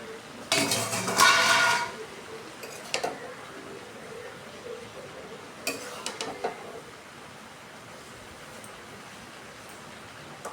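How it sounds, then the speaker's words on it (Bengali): A metal lid is lifted off a cooking pot of raw jackfruit curry with a loud clattering rattle, followed by a few scattered light clinks of cookware over a quiet background hiss. "10 মিনিট পর আমরা ঢাকা তুলে নিচ্ছি।"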